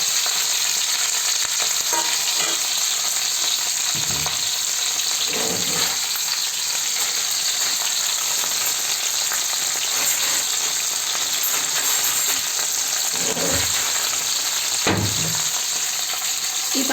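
Green chilies and ridge gourd pieces frying in a pan for chutney, a steady bright sizzle throughout with occasional soft stirring knocks, close and alone.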